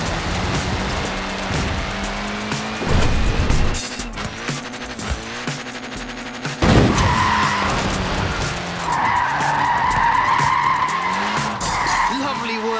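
A short-wheelbase, front-wheel-drive Mini slides and skids in the racing game Forza Horizon 4, with loud, sustained tyre squeal over a revving engine and bursts of crashing noise, and a voice appears at times.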